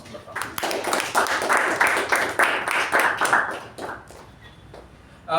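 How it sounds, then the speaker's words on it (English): Clapping from an audience at a Toastmasters club meeting, honoring a member after her speech: a dense patter of hand claps lasting several seconds, mixed with murmuring voices, then thinning out near the end. "So a round of applause to Toastmaster Latha"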